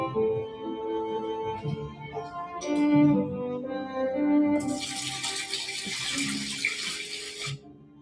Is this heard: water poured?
yes